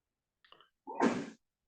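A single close sneeze, a short intake of breath followed by a sharp burst, isolated against silence.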